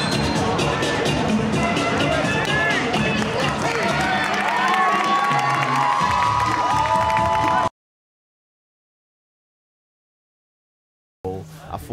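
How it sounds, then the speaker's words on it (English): Crowd noise with cheering and clapping fills the arena after a Muay Thai bout, loud and dense for several seconds with speech mixed in, then cutting abruptly to silence before a brief return. "Please give a nice round of applause out here for both fighters, Terrence Hill and Patrick Yee"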